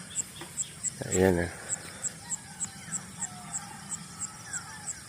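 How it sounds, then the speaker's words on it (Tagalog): A rooster crows once, fairly close and loud, at five in the morning beside a rural hut in the mountains, while small birds chirp steadily in the background and someone speaks briefly. "O tilaok ng manok."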